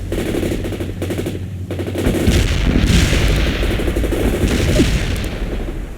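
Dense, loud gunfire in a war video game, continuous rapid automatic bursts layered with booming explosions, close and unbroken across the whole stretch.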